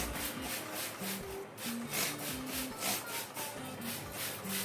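Scrubbing a houseplant to treat spider mites produces repeated back-and-forth rubbing strokes, close and moderately loud, in a steady uneven rhythm with no voices.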